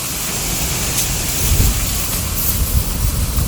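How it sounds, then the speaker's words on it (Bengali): A storm with heavy rain roars as a dense, steady wash of rainfall and gusting wind, loud and close throughout with no break. "পুরা ঝড় বৃষ্টি"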